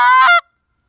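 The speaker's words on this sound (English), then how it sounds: "the language that the Canada Goose uses is built upon the two sounds, the honks and the clucks." A single loud Canada goose call burst, a honk blending into a quick cluck, lasting under half a second and then silence.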